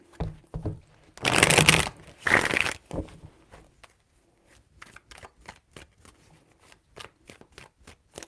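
Tarot cards are shuffled in two loud riffling bursts close by, followed by quieter scattered taps and flicks as the deck is handled.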